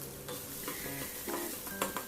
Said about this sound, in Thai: ทำการผัดคลุกเคล้าข้าวพริกกระเทียมไป ให้ ทั่วๆนะครับ